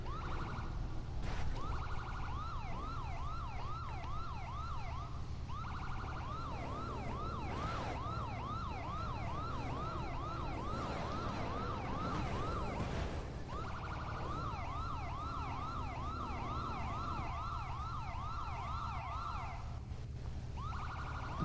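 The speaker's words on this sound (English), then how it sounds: "who's firing off those sirens?" Police and ambulance sirens in the racing game The Crew 2 wail in overlapping, steadily cycling tones, loud and continuous over a low engine hum, with no one speaking.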